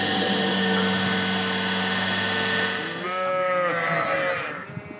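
Sheep on a Flemish or Walloon sheep farm bleat loudly and close by, one sustained harmonic bleat followed by several wavering calls, without talk.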